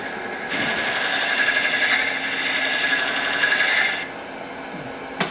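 A hook tool scrapes the end grain of wood spinning on a lathe, giving a steady, close rasping that runs for about three and a half seconds and then stops, with a brief click near the end.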